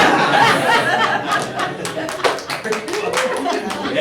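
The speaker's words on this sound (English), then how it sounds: "Yeah, you clap for that." Several people in an office meeting clap in a ragged burst of applause lasting a few seconds, mixed with chatter and light laughter close by.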